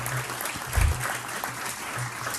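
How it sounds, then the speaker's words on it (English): Audience applause for presenters at a closing session, a dense steady patter of many hands with a low hum underneath, holding fairly even with a brief swell. "everybody join me in giving them another round of applause"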